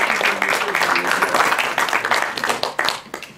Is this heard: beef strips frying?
no